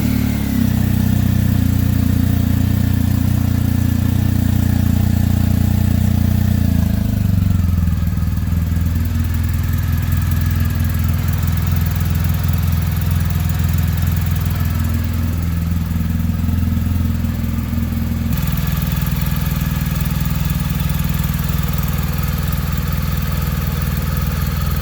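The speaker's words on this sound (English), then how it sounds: "I'm going to start the bike, let it run for a couple minutes" A BMW R1250GS boxer engine idles close by with a steady, loud mechanical drone and low throb that shifts pitch slightly a couple of times, running continuously without talk.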